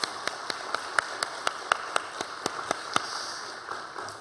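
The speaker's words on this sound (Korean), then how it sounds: "우리 박수 한번 부탁드리겠습니다" A church congregation at a Korean worship service dedicated to its church school claps in an even rhythm, crisp regular claps standing out above a softer background of hands before tapering off.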